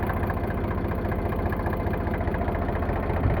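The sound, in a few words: Eicher 368 tractor engine idling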